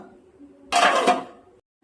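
A metal lid clatters onto a pot of simmering fish curry in one brief rattling clank, following a few quiet moments of faint talk.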